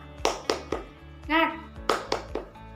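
A primary-school class claps a rhythmic cheer: a few sharp, close claps, a short pause while children chant together, then another quick run of claps.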